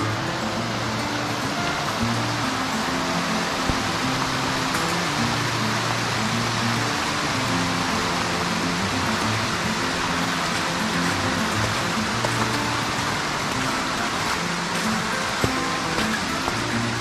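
The North Fork of Coyote Creek, a Washington mountain creek at 1,200 feet swollen with snowmelt, gives a steady, loud, unbroken rush of flowing water with no voices.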